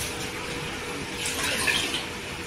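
About 250 g of cleaned dried fish (sukat) is rinsed under clean running water in a kitchen, giving a steady, moderately loud splash and gush that swells slightly midway, with no talking.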